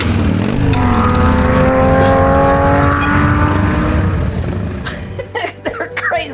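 A Lamborghini launches off the start line with a loud engine note that climbs steadily in pitch as it accelerates, then fades away, followed by a few short bursts of other noise at the end.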